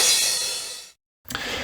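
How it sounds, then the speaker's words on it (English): A bright, sustained crash cymbal sample from a Korg Volca rings out and slowly decays, then after a short silence a second crash hits and sustains. "There is also a crash cymbal."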